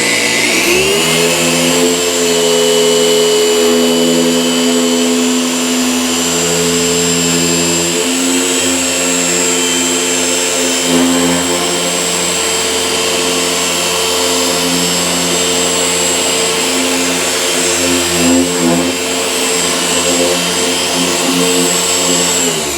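A Harbor Freight 6-inch car polisher runs continuously and loud, its motor whine holding steady and then climbing slightly in pitch as it ramps up toward speed 6, close by with no talk.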